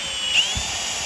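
A handheld power drill with a bit bores into metal while repairing a garden hand shovel, a brief, steady high whine lasting about a second at close range, with no talking.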